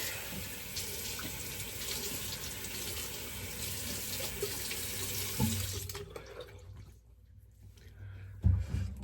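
A bathroom sink tap runs steadily while someone rinses their face after shaving, the water flowing close for about six seconds before shutting off, followed by a faint splash and clunk.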